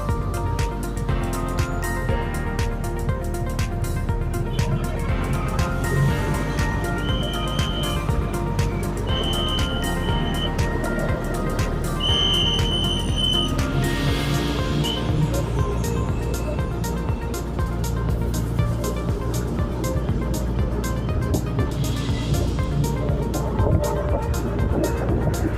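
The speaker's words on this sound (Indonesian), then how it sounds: "cuma suara mesin dan angin." A motorcycle rides through the streets of Malang by day, its engine a continuous low hum beneath steady wind rush, with faint traffic and occasional higher tones passing throughout.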